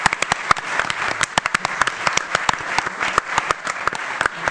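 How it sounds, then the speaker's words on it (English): A large audience at a tech industry panel event claps in sustained applause for the panelists, dense and steady throughout with sharp individual claps standing out. "Let's give them a big round of applause"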